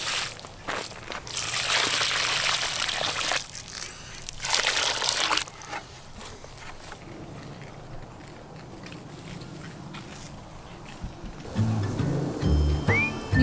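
Water mixed with fish emulsion pours and splashes onto a compost pile in a long broadband rush that stops and restarts, followed by quieter rustling and a faint outdoor background.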